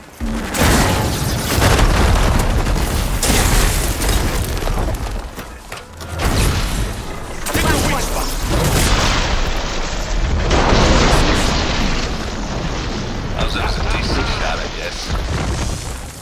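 Heavy explosions in the video game Horizon Forbidden West boom repeatedly during a battle, loud and dense, with rumbling blasts and debris noise that continue almost without a break.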